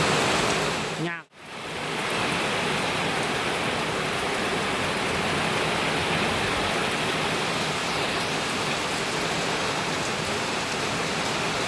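Heavy rain falls steadily in a remote rural village in Laos, a dense, even hiss of drops on surfaces that stays loud throughout after a brief dip near the start.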